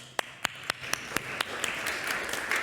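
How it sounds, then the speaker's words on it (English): At an eco-social renewal conference, an audience claps for a host. A few separate, sharp claps come first, then they thicken into light, steady applause. "So give her applause."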